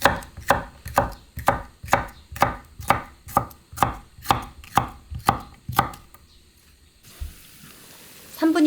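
A knife chops vegetables such as chives, paprika or carrot on a cutting board in a steady rhythm of about a dozen crisp, close strokes, then stops, leaving quiet kitchen background.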